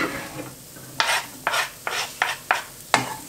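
Garlic and onion sizzle in olive oil in a sauté pan, a steady hiss broken by about six sharp stirring scrapes at regular intervals, close and moderately loud with no talk.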